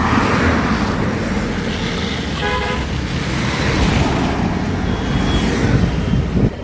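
Electric scooter fitted with a 60V lithium battery speeding up outdoors, a steady broadband road and motor rush holding loud throughout with a brief tonal whine partway through.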